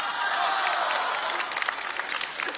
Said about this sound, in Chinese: 用热烈掌声欢迎栾云平给大伙演一个